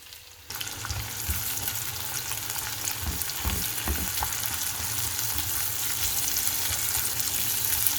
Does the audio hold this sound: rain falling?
no